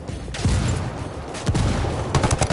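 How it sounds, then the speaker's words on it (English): Explosive mortar fire in the video game Ghost Recon Wildlands, a cluster of booming blasts and rattling gunfire bursts rolling through the scene, loud and repeated at irregular intervals with no talk. "Sorry for some mortar fire."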